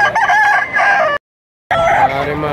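A white-legged rooster at a livestock market in Padre Garcia, Batangas, crows loudly and close by in two strained bursts separated by a brief gap.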